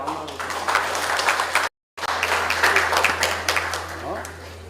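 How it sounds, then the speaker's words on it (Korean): Audience applause at a Gwangju mayor's press briefing on city achievements: moderate, scattered clapping that continues with a brief dropout partway through. "여러분 큰 박수 부탁드립니다."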